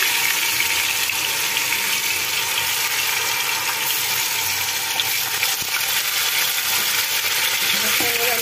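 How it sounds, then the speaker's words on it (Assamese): Paneer sizzles and crackles in hot oil in a pan while being made into a mixed fried vegetable sabji, a loud, dense, continuous frying hiss with occasional stirring clinks. "তেল গৰম হৈ গৈছে এটা আমি ইয়াতে পনীৰটো ফ্ৰাই কৰি লম"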